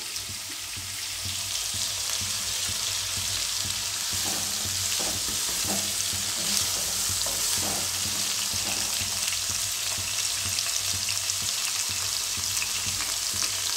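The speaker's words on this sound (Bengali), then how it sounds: "এঁচোড়টা ভাজা হয়ে গেছে" Boiled jackfruit fries in ghee in a pan for a Bengali jackfruit curry, giving a steady, close sizzle that crackles evenly throughout with no voices.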